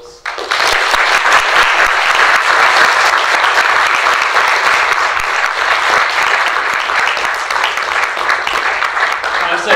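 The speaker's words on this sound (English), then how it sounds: "Just another round of applause." Audience applause after a human rights talk, loud dense clapping from a room of people, sustained for nearly ten seconds after a brief quiet start.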